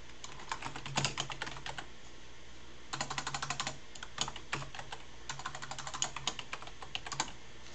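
A name typed on a computer keyboard in three quick bursts of crisp key clicks, with short pauses between them. The typing is close and clear, and no one talks.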